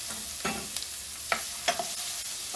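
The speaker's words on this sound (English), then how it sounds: "That's a nice sizzle." Oil crackles steadily as chopped bell pepper and onion fry in a pan, with a few sharper pops and stirring scrapes standing out over the constant hiss.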